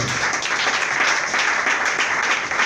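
A church congregation applauds in praise, a dense, steady wash of clapping that holds evenly for a few seconds without voices.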